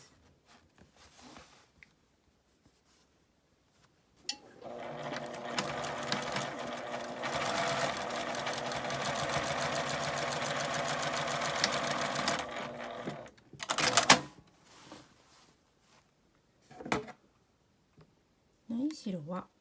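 A sewing machine stitches the gusset of a fabric lunch bag in a sustained, rapid close-up run of about eight seconds, with short bursts of stitching before and after and some handling sounds between them.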